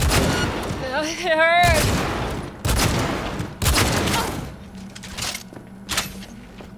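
Gunfire from a weapon in Cyberpunk 2077 lands as several heavy, booming bursts spaced a second or so apart, mixed with game sounds and a voice speaking between shots.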